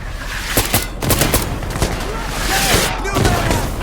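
Rapid MK18 CQBR carbine fire in the shooter game Insurgency Sandstorm: loud crackling bursts and single shots sounding across the whole stretch, with shouting voices over the gunfire.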